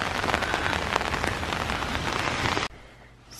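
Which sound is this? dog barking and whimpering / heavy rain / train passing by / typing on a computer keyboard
heavy rain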